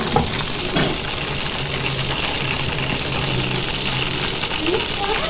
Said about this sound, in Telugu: మసాలా కలిపి పెట్టుకున్నాం కదా లెగ్ పీసులకి. ఇప్పుడు ఈ నూనెలో వేస్తాను.